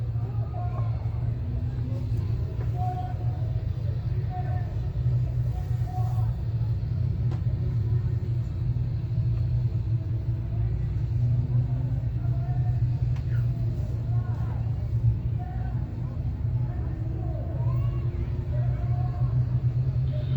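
Race cars run laps at Can-Am Speedway at night, a steady far-off engine rumble droning continuously across the field while a voice talks over it.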